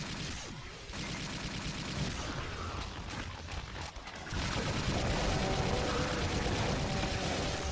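Doom 2 gunfire and rocket blasts crowd a dense, noisy stretch of combat, a constant roar of shots and explosions that grows louder partway through.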